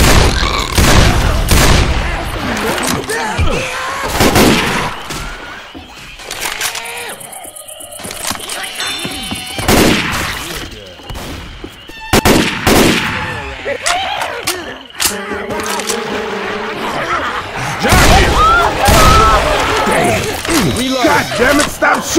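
Heavy gunfire from Left 4 Dead 2 in the Swamp Fever campaign, loud bursts and rapid volleys with booming blasts throughout, mixed with shouted voices and game chatter.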